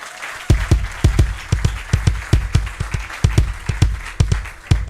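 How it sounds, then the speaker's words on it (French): A church congregation in Béthune claps together in a loud, rhythmic, steady beat, each round of hands landing with a heavy thump and repeating many times in a regular pulse. "Acclamation"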